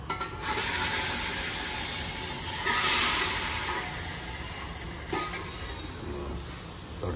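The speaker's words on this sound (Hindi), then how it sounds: "तड़का लग गया" Spices such as fenugreek and red chilies sizzling in hot oil as a tadka for South-style masala dosa, a continuous soft frying hiss with a few louder crackling bursts, heard alone at moderate distance.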